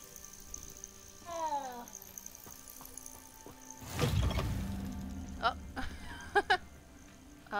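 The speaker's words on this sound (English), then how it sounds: "Can't ignore the kitty cats." A cat in Hogwarts Legacy lets out a few short meows in a quiet in-game setting, and a thud and some mechanical clatter follow in the middle.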